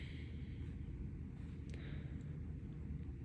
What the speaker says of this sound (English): you can hear the wind outside